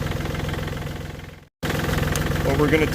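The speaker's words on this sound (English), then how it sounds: "And then we have us a spray rig tractor." Spray rig tractor engine idling nearby, a steady low rhythmic throb with a brief dropout midway before the same chugging idle resumes.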